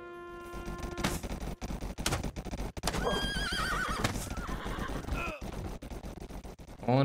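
A horse in the video game Rustler neighs loudly, with hoof clip-clops and bursts of gunfire breaking in amid other game effects.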